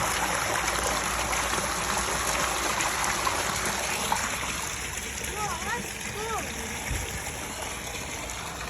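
Water flowing into a rebuilt garden pond as it fills, a steady broadband rushing and splashing that stays loud and constant throughout, with a few faint birdlike chirps near the end.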